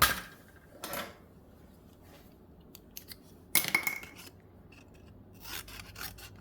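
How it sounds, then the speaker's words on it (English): Scissors snip through a piece of card during a Stampin' Up! poinsettia papercraft project, giving a few short, close, dry cuts separated by quiet pauses. "So I'm just going to cut a piece."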